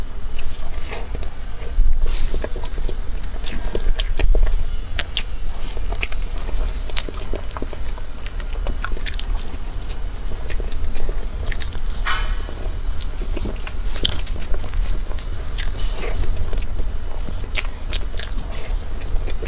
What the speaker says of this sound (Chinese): 先吃口昨天剩的蛋糕。